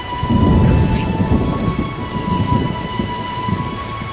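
Heavy rain and rolling thunder in The Witcher, a loud steady downpour with a deep rumble swelling early and then easing, and a faint high tone running throughout.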